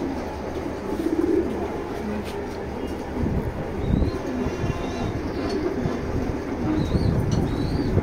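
Racing pigeons, including a female racer, coo softly in a pigeon loft, low murmuring calls mixed with faint rustling and occasional nearby talk.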